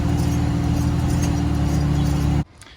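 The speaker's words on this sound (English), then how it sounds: "bearing noise" A worn front wheel bearing on a Nissan 350Z / Infiniti G35 with lightweight wheels makes a loud, steady droning hum with a low rumble and a tonal whine, running continuously before cutting off abruptly near the end.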